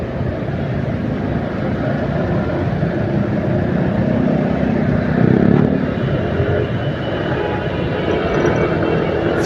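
Motorcycle ridden through Grogol, West Jakarta near Mall Taman Anggrek, pulling away from a green light with a steady broadband engine and road roar and a slight swell midway, captured close on an action camera.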